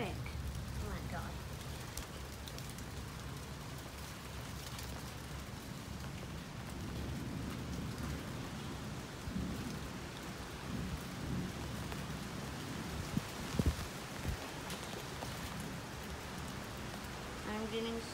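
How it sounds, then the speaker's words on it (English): Heavy rain driven by wind pours down during a violent thunderstorm, a dense, steady roar with low rumbling thunder underneath and a couple of sharper cracks near the end. "No, the wind is pushing the rain."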